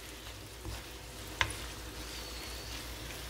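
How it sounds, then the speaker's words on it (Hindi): Beans cooking with spices in a pan give off a faint, steady sizzle, broken once by a single sharp clink near the middle. "यहाँ पे बीन्स को स्पाइसेस के साथ कुक होते हुए 7 से 8 मिनट हो गए हैं"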